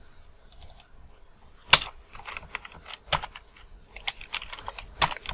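Computer keyboard keys tapped in short irregular bursts while text is entered in Adobe Illustrator, close and clicky, with a couple of sharper hard presses and gaps between strokes.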